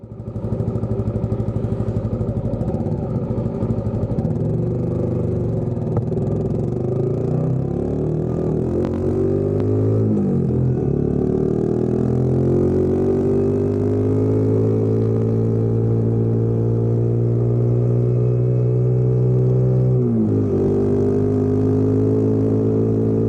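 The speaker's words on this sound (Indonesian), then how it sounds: "ini adalah suara dari knalpot ROB1 yang terpasang di Pertiwi" A Honda CB150R Streetfire motorcycle fitted with an aftermarket ROB1 exhaust runs close by, its engine climbing and falling through several revs. The steady, loud drone shows a couple of brief throttle blips.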